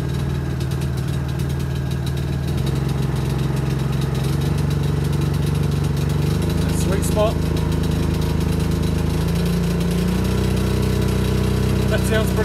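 Biogas-fuelled generator engine running steadily on compressed biogas, a loud continuous idling drone with a slight shift in pitch partway through, while someone speaks briefly over it.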